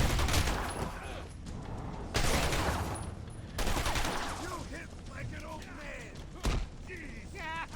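Gunshots and weapon fire burst out in a Batman: Return to Arkham Asylum fight, with loud thuds and impacts in several heavy clusters amid combat noise and game voices.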